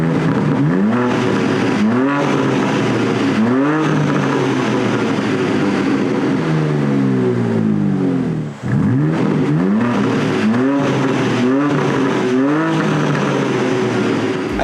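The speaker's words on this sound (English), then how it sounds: "I'm going to fully open up the valves, right? Now you get that deep, loud sound without the burbles." A BMW M2 with stock exhaust valves held fully open roars deep and loud through repeated rising revs, a steady throaty drone with gear-change dips, close and alone.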